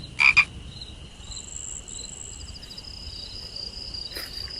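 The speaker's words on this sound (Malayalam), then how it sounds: "തവള നോക്കി." A frog croaks twice in a sharp, loud double burst at night in a forest, then steady insect and cricket trilling carries on alone with faint whistling tones and a final short croak.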